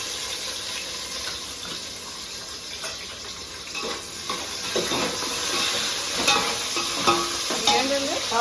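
Onion, green chili and carrot pieces fry in a pan for plain khuska biryani, a close continuous sizzle with scraping stirs that grows busier and louder toward the end.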